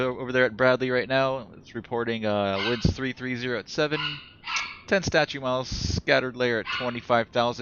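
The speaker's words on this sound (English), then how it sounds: "I don't know if you guys can hear my dogs barking in the background." A household's dogs bark in the background, mostly masked beneath a man's steady, close voice reading off aviation weather figures.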